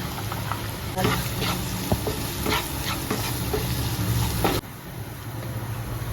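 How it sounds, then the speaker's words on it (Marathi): Onion frying in a pan with garlic, masala and coriander powder, a steady close sizzle with occasional scrapes and clinks as it is stirred, cutting off abruptly near the end. "कांदा छान परतून झालाय"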